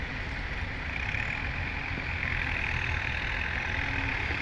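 A steady, rumbling engine of a SANY SY135C excavator runs throughout at a constant pitch, close by and fairly loud, with no voices.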